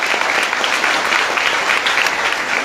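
Applause from a festive gathering, a dense steady clapping of many hands filling the whole moment, close and loud with no voices over it.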